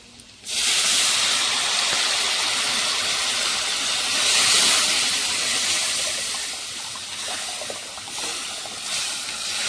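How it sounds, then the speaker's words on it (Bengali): Boiled lentils cooked with papaya hit a hot frying pan with a sudden loud hiss that holds as a steady, steamy sizzle before easing off slightly, no voices present. "এতে সিদ্ধ করে রাখা এই ডালটা পেঁপে দিয়ে ডাল তো সেটা দিয়ে দেবো"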